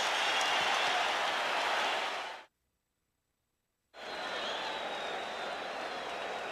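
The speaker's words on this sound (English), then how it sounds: "Larry Bird said he wanted to hear more from the crowd in this game" An arena crowd roars and cheers during Game 4 of the 1987 NBA Finals between the Lakers and Celtics: a dense, loud wash of noise that cuts to total silence for about a second and a half, then resumes just as full.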